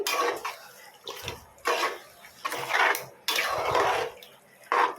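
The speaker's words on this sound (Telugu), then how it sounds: "వాటర్లో మళ్ళీ జలపరిచుకుంటూ వేస్తా కాబట్టి వాటర్ శబ్దం అనేది వచ్చింది" Meat curry being mixed in a pot with water, producing bursts of wet splashing and sloshing at irregular intervals, close up, separated by brief pauses.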